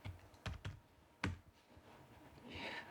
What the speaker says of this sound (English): And then just type up here Omarchy.